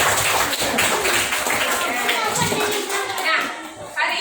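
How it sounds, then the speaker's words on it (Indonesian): A school class claps for a returning classmate, a busy round of children's hand claps mixed with kids' chatter and voices from the room. "kita kasih tepukan untuk Rafael karena sudah lama tidak sekolah"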